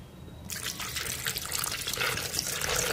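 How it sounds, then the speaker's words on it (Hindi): Water poured from a tap or jug into a glass holding ice cubes while making mint lemonade, a close, steady splashing stream that starts suddenly and continues, growing slightly fuller as the glass fills. "1 गिलास हम इसमें पानी डालेंगे।"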